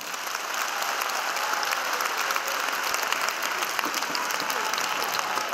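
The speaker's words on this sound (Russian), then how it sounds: "Народного артиста встречают долгими и бурными аплодисментами." Long, dense applause from an audience at a concert by actor Vasily Lanovoy in Bryansk, a steady, enthusiastic wash of clapping that continues throughout without letup.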